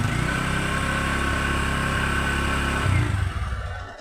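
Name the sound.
pickup truck engine idling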